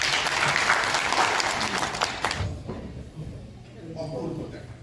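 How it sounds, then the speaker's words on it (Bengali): Clapping from the audience at a Memorial Day celebration for senior citizens in the Bronx, New York: a dense burst of applause in a hall that fades after about two seconds, then quieter murmuring voices. "সবাইকে জন্য হাততালি।"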